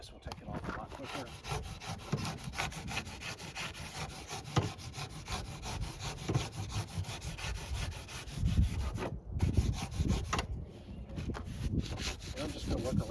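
Hand sanding to strip leftover paper from fiberglass-covered foam on a C8 Corvette: repeated scratchy back-and-forth rubbing strokes, close and fairly quiet, steady for several seconds with short pauses.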